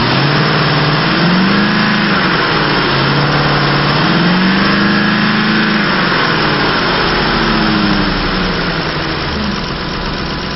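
A 2006 Ford F150 pickup with a 5.4 liter engine and automatic transmission runs steadily at idle close up, a loud, even rumble with slight rises and dips in pitch.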